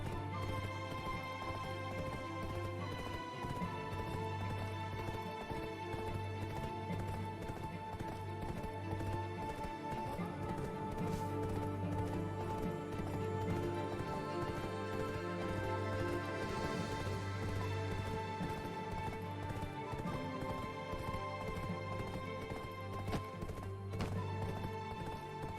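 A tier 6 horse gallops in the Black Desert video game, its hoofbeats a steady, continuous clip-clop that runs throughout over layered game music.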